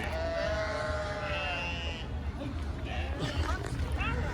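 Sheep bleat in wavering cries over a busy crowd murmur at the Pileru sheep market, several animals calling near and far amid steady background chatter.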